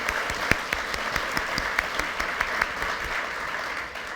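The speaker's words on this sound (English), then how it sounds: "I think we need applause for that," Audience applause at a music talk event, a steady wash of clapping across the whole stretch with a few sharper individual claps standing out, moderately loud and without talk.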